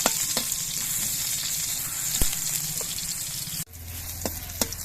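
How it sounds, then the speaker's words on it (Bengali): Sliced bitter gourd frying in a pan of oil, a steady close sizzle with occasional pops and stirring clicks, the hiss dropping briefly as the pieces are moved. "সেই উচ্ছেটাও আমি ভেজে নিচ্ছি"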